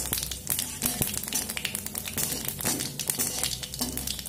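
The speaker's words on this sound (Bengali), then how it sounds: "তো জিরেটা একটু ভাজা হতে দেব।" Whole cumin seeds sizzle and crackle in hot refined oil in a pan, a dense, fairly quiet hiss broken by scattered sharp pops and faint stirring clatter, with no voices.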